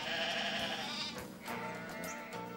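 Sheep bleat close by in a short string of wavering calls, the first drawn out and the later ones choppier, heard on their own without talk.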